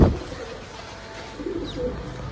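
Pigeons give soft, low cooing calls close by, a few murmuring notes in a quiet outdoor setting after a brief bump at the start.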